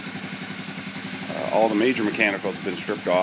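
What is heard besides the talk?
1986 Honda Big Red 250 ES engine running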